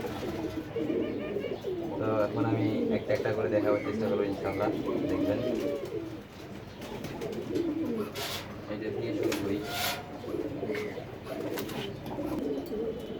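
Pigeons coo softly in a loft, low rolling calls repeating throughout while someone talks over them, with some rustling and brief clatter later on.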